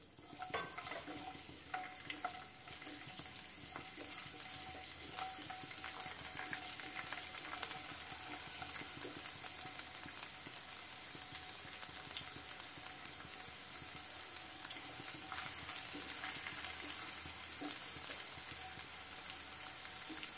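Steady, soft sizzling of garlic frying in hot oil over a low flame, a continuous crackle with no voices, fairly close but quiet.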